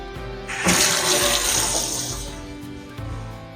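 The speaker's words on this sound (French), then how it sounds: "on va ouvrir l'eau chaude" A hot water tap is opened on a system heated by an Atlantic Naema boiler, and water gushes out loud and close, rushing steadily before easing slightly toward the end.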